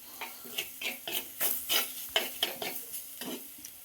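Spices with coriander powder being sautéed and stirred in a pan, a soft sizzle under a rhythmic series of scraping spoon strokes, about a dozen quick passes, close and fairly quiet.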